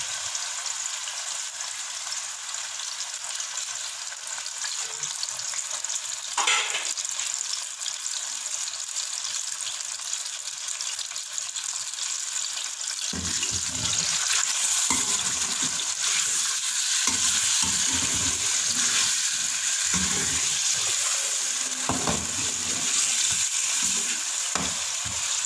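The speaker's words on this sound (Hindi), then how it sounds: "अब इस घी में मैं गोश्त डाल रही हूँ। थोड़ा सा हम इसको फ्राई कर लेते हैं" Mutton pieces frying in hot ghee for arvi gosht: a steady, bright sizzle that grows fuller halfway through, with repeated spoon scrapes and stirring knocks against the pan.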